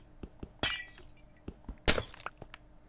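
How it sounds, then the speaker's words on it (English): Glass breaks in the Minecraft video game on PS4, giving two sharp crisp shatters about a second apart amid small clicks and taps, fairly close and clear. "Oh, I hate that sound of breaking glass."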